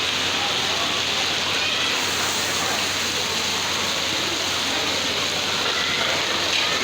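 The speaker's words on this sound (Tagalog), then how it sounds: "medyo malakas-lakas na ulan." Fairly heavy rain pours down in a steady, dense hiss that stays even and unbroken throughout, with a faint low hum underneath and no voices.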